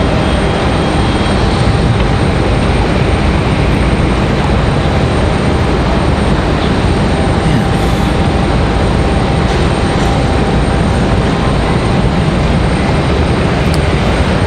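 An Airbus A321 airliner departing Raleigh Durham airport, a loud, unbroken jet engine roar filling the whole stretch without letting up.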